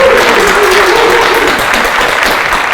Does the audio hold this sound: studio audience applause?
yes